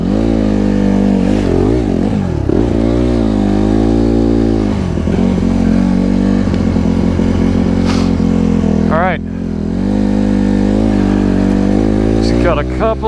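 A Honda CRF150RB dirt bike engine runs close by, its idle shifting in pitch with several blips and revs, while a person talks over it at times.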